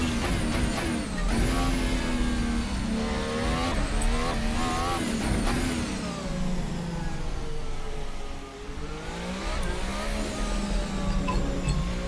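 F1 2018 race car engine in Assetto Corsa at Monaco, a loud continuous high-revving whine with pitch sweeping up and down through gear changes and a brief dip before climbing again.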